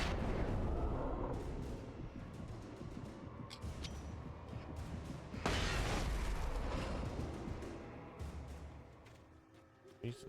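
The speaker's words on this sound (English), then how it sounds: "Flashbangs are amazing though." Flashbangs and gunfire in Alan Wake 2 set off a continuous rumbling barrage of blasts and cracks, with a sharp bright burst near the middle, loud and sustained throughout.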